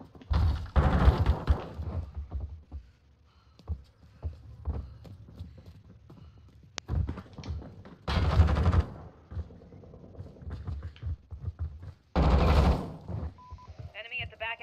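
Gunfire in Call of Duty Modern Warfare, a St. Petrograd ground match, comes as a few loud bursts of shots spaced several seconds apart, with quieter game noise in between.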